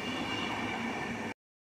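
A train pulling away from Janowice Wielkie station in Poland, a steady, loud rumble with rail noise that cuts off abruptly after about a second.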